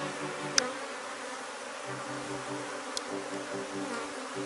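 Honeybees buzzing at a hive during colony work, a steady, moderate insect drone held throughout with two brief clicks and no talking.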